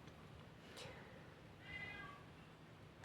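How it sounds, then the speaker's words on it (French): A house cat meowing and complaining softly in the background, one faint drawn-out meow with a short higher call before it, quiet and somewhat distant under a low room hiss. "j'ai un chat qui miaule, qui se plaint même"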